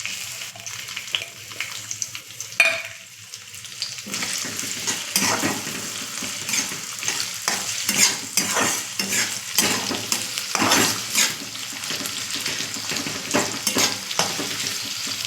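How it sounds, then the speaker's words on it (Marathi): Chopped onion fries in oil with a bay leaf, being stirred until golden: a constant close sizzle with frequent scraping stir strokes and small clatters against the pan. "कांदा लाल होईपर्यंत भाजून घ्यायचा आहे"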